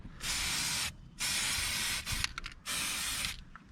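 Three long hissing bursts from an aerosol spray can onto Peugeot 407 rear brake discs and pads, close by, with brief pauses and small clicks between them.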